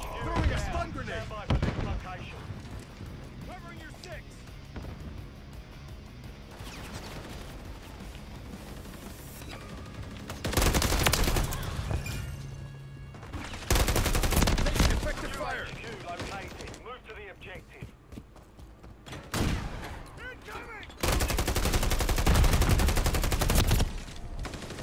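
Call of Duty video game combat with bursts of rapid gunfire and heavy grenade blasts, loud and dense, separated by stretches of quieter battle noise.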